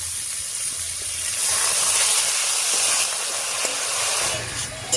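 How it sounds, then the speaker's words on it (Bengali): Water splashes into a hot pan of magur catfish curry seasoned with salt and turmeric, setting off a steady broadband steam hiss that swells after a second and holds, with faint bubbling beneath. "এবার এর মধ্যে দেবো একটুখানি জল।"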